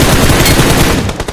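Gunfire from the video game PUBG Mobile rattles in a loud, dense machine-gun burst of rapid shots filling nearly the whole moment before briefly breaking up at the end.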